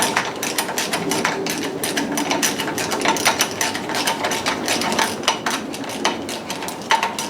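Small 10 mm bolts on the thermostat cap of a Yamaha outboard are snugged up with a hand tool, giving a continuous close sequence of quick metallic clicks and rattles over a dull background.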